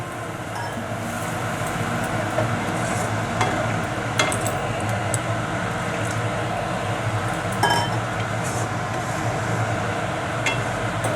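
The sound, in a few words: adding water to fried masala for fish curry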